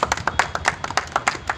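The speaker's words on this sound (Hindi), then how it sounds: "ताली बजाओ।" A group of people clap together at an outdoor Jolo chips hot-chip eating challenge, their claps coming as a rapid, uneven run of sharp, moderately loud hits across the whole moment.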